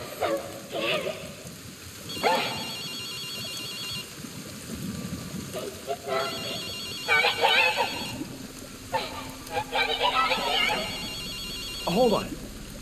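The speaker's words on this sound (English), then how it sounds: "Hold on. I'll answer the phone and see what happens." Telephone ringing in the video game Ghostwire Tokyo, repeated bursts of a trilling bell ring separated by short pauses over a low ambient hum, with speech-like voice sounds in between.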